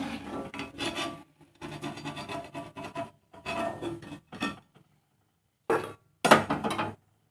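A fork presses a pattern into the edge of somas dough, giving a series of short, scratchy rasping bursts separated by brief pauses.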